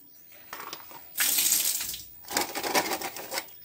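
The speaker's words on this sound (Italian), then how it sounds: "Scoliamo l'acqua." Soaking water drained off chestnuts that sat a day in water with baking soda, heard as two loud splashing gushes of pouring water with a short pause between.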